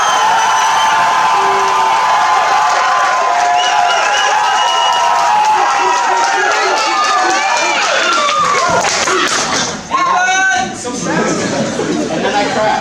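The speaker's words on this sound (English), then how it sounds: "having 160 brothers screaming your name and cheering and clapping" About 160 fraternity brothers screaming, cheering and clapping at a level 5 race, a loud, dense roar of whoops and applause, with a short dip near the end before the noise picks up again.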